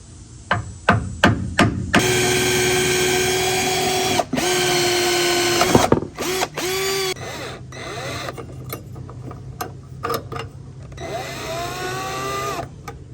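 A drill bores into a truck bed, with sharp punch taps first, then sustained high-pitched whining bursts that rise and stop, separated by short clicks and rattles.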